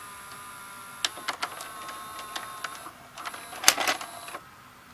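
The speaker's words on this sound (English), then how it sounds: "Now let's see it eject." An Orion VR0120 VCR ejects a tape with a faint steady motor whine, a series of sharp clicks and clunks, then a louder mechanical clatter near the end.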